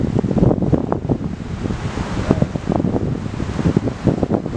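Strong wind blows outdoors, buffeting the microphone in a continuous loud rushing roar with gusty swells and no voices.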